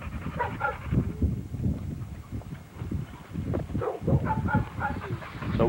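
Red nose pit bull type dogs in a kennel yard pant and shuffle close by, with irregular rhythmic breathing and movement noises continuing throughout.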